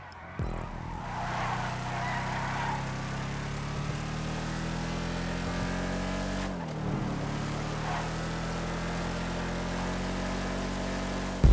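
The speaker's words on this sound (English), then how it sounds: "The gearbox still sounds like it's limiting this car slightly" A racing car engine in Grand Theft Auto 5, a Declasse Vamos, drones steadily at high revs, with a brief dip and surge partway as a gear changes, continuing alone without speech.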